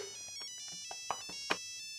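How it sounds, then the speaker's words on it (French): A telephone ringing in a French comedy film scene at a barber's chair: bright, bell-like ringing tones with rich overtones, a few short strikes close by with no talk over them. "Téléphone."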